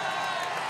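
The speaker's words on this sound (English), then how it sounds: "Crowd is loud." A loud basketball arena crowd roars during the NAIA men's national championship game, a dense, steady wash of cheering with no breaks, heard up close.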